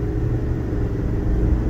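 A diesel pickup truck's engine rumbles steadily under hard acceleration, a deep, continuous low drone heard from inside the cab with no talking.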